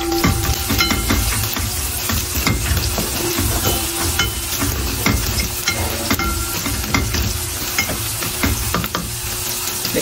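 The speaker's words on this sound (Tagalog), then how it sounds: "Magisa na natin ang ating bawang." Garlic and onion sauté in a pan, a loud, dense sizzle close up with frequent scraping stirs throughout and no talking.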